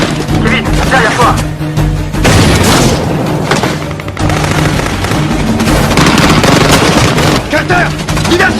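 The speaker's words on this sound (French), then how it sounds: "Grenade!" A grenade explodes during a loud action-film firefight, its heavy booms mixed with gunfire and shouted voices throughout.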